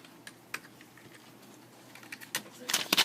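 Intermittent keyboard taps during spreadsheet data entry: sparse, fairly faint clicks early on, then a denser burst of louder key strikes near the end, with no talking.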